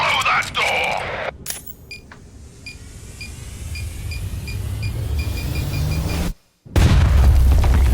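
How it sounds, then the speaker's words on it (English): A door-breaching explosion in a Warhammer cinematic trailer lands as a sharp boom near the start, followed by mechanical clicks, rising rumble and a second heavy low blast at the end, with voices at the opening. "Oh, that was a lame explosion."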